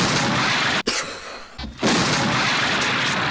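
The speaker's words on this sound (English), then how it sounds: "one of the most glorious head explosions ever put to celluloid" A gory head explosion effect from a David Cronenberg horror film: a loud, dense roar and blast that drops out abruptly, briefly gives way to a thinner rumbling layer, then surges back at full force.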